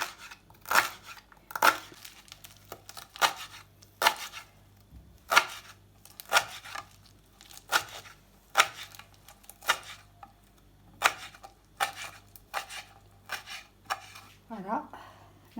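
Knife chopping parsley and herbs for Moroccan harira soup, a slow, regular series of about a dozen crisp cuts on a board, close and fairly quiet, with a brief voice near the end.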